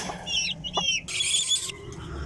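A mother hen sits with her chicks and gives soft, low clucks. Brief, high chick peeps sound close by in a quiet setting.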